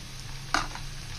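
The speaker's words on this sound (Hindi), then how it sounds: "अब इसके अंदर हम लहसुन अदरक का पेस्ट डाल देंगे।" Garlic ginger paste drops into a pan of golden fried onions, giving a short burst of sizzle over a low, steady frying hiss, close and brief.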